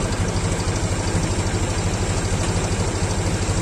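A tractor engine labours steadily under load while pulling a plough, a close, continuous low throbbing drone with a fast regular pulse and no voices.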